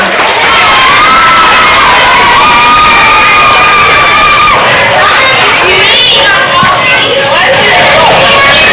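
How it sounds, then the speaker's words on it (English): Crowd of children cheering and shouting loudly at a school awards event for a counselor, with excited whoops and voices rising throughout, any clapping buried under the sustained din. "Round of applause for Mrs. Palimo'o."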